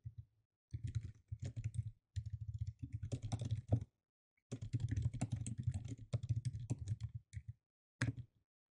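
Bursts of typing on a computer keyboard, rapid close clicking keystrokes in several runs separated by short pauses, with no voices.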